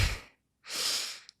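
Two slow nasal breaths sound close and soft, a short exhale fading out, a pause of silence, then a longer airy inhale through the nose, with no talking.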